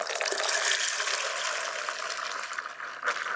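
Water pours into a pot for southern black-eyed peas, a steady, close hissing splash that carries on throughout and swells briefly near the end.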